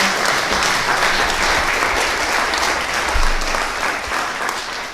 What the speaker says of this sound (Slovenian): Lahko en aplavz, ja.